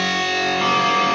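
A distorted electric guitar chord rings out with the fifth string muted, giving a dense, sustained, buzzing sound, loud and close, with a slight fresh attack partway through.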